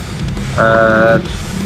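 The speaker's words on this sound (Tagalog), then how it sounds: "Ayun yung busina, oh." A short, loud horn beep of about half a second from a nearby Honda PCX motorcycle, heard over background traffic noise.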